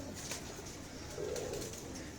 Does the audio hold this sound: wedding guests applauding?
no